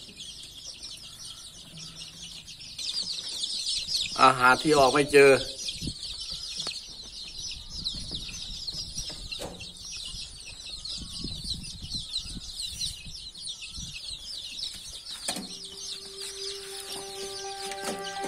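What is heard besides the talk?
hen clucking in a chick nursery box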